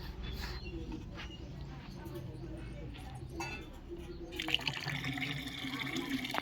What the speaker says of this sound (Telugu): ఇందులో అయితే నేను డైమండ్ లిక్విడ్ అయితే వేస్తున్నాను, డైమండ్ లిక్విడ్ది